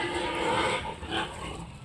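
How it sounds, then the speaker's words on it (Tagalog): Pigs crowd around their feed, grunting and snuffling close by in a dense, continuous mass of low, rough noise while eating. "Kain lang sa mga baboy."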